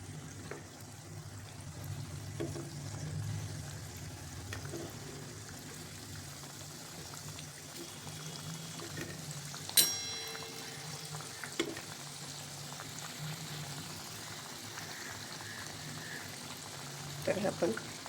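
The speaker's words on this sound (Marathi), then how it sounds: "तर हे आपण तसंच आता फ्लेम कमी करून आपल्याला छान तळून घ्यायचं." A soft, steady sizzle rises from bottle gourd and sprouted mung bean fritters deep frying in oil over a lowered flame. It stays faint and even, broken by a few small clinks.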